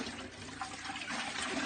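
Water draining from wrung-out washing through a bucket full of holes inside a shower, a steady broadband splashing rush that holds close and fairly loud throughout, with no voices.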